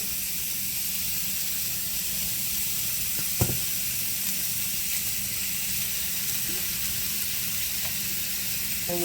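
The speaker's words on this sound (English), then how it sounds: "we're just gonna cook and brown our ground beef" Ground beef browning in a dry skillet, a steady low sizzle and hiss throughout, with one faint utensil knock partway through.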